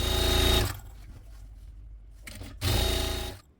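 A sewing machine stitches piping onto a cloth doormat made from old fabric, running in two loud, close whirring bursts separated by a quieter pause with faint handling sounds.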